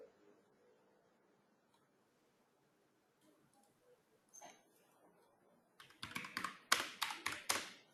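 Keys on a malfunctioning computer keyboard are typed on. A faint stretch of scattered taps gives way to a close, rapid burst of clattering keystrokes.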